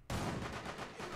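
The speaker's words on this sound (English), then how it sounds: "A shotgun." A shotgun blast in Rainbow Six Siege, one sudden loud close boom that hits hard and then trails off into a rumbling, noisy tail.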